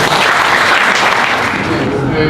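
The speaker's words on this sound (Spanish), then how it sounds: "ingeniero Edwin Quintanilla, un aplauso por favor para el ingeniero." Audience applause at an evening round-table panel on electricity generation costs and prices, welcoming an engineer to speak; dense, steady clapping fills the whole stretch, loud and close.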